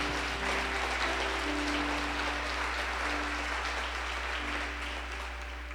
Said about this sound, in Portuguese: Quem está entendendo isso, aplauda a Jesus.